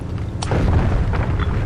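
A gunboat's cannon fires in the Foxhole war game, giving one loud, deep boom with a rumbling tail and a few quieter pops afterward, and no talk.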